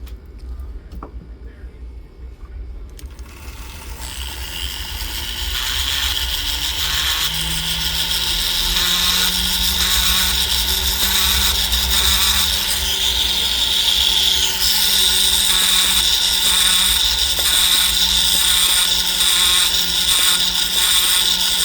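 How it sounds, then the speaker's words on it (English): An inside grinder whirs steadily while sizing a silver ring, starting after a brief quieter moment and then running loud and continuous with a high-pitched grinding tone. "Need to swap it to one of these wonderful inside grinders here."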